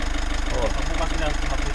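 A Mitsubishi L300's 4N14 common rail diesel engine idles with an even, rapid knocking pulse, loud and close, while someone talks over it.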